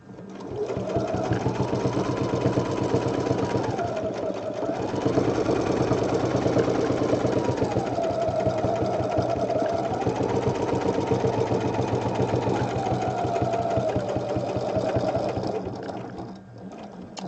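Sewing machine stitching fabric for angel wings, a steady fast mechanical whirr with rapid needle chatter that briefly slows and speeds again, running alone until it stops near the end.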